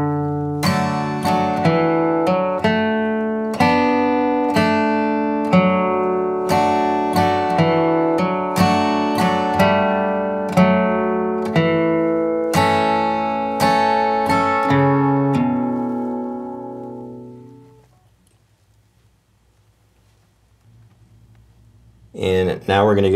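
Acoustic guitar picking the opening four measures of the folk tune Jimmy Brown the Newsboy, a steady run of clear plucked notes that rings out and fades to near silence, followed by a brief noise at the end.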